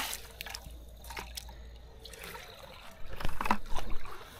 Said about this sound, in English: I'll put a bit of water in the bucket.